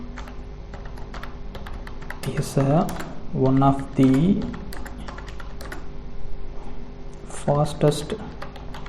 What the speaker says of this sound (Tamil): நான் டைப் பண்ணி காட்டுறேன்